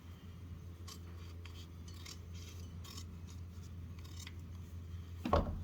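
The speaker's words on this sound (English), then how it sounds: "Get my handy dandy little scissors here" Quiet, repeated snips of small scissors trimming excess material during a knife build with an antler handle, light clicks spaced irregularly over a low hum, ending with a louder knock.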